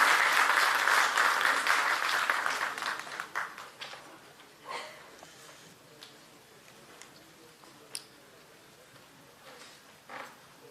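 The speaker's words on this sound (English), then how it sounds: "Ladies and gentlemen, please keep the clapping going." An audience at a university law faculty valedictory ceremony claps, loud sustained applause at first that thins out into scattered individual claps, a few late isolated claps near the end.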